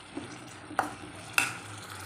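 Onion rice with turmeric frying in a pan: a faint steady sizzle with two or three sharp spoon knocks as it is stirred, close and without talk.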